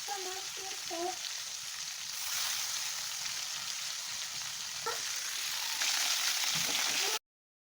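Fish frying in hot oil in a home kitchen, a steady loud sizzle and crackle that swells midway and runs on continuously, with a few faint voice fragments at the start before it cuts off abruptly.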